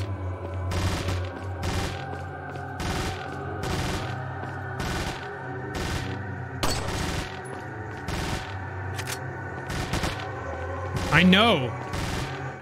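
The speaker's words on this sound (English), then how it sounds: "I don't need to hear that Leon is still panic firing" Leon panic-firing a gun in Resident Evil 4, a steady run of about a dozen evenly spaced gunshots over a droning game soundtrack, with a brief voice and a rising squeal near the end.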